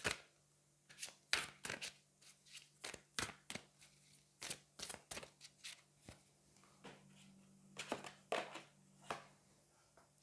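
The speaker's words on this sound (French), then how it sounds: "Allez, on va aller prendre une carte des anges et puis on terminera là-dessus." Cards riffled and shuffled in repeated quick bursts, then an angel oracle card drawn from the deck, close and crisp in a quiet room with no talking.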